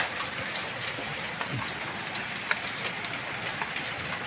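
Large hailstones fall in a dense, steady patter with scattered sharper impacts standing out from the continuous rattle.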